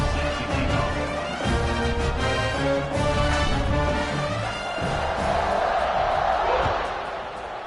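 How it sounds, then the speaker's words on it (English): Football stadium crowd buzzing after a touchdown: a loud, dense, steady roar of many voices that holds for the whole stretch and eases slightly toward the end. "this crowd is buzzing after that last score"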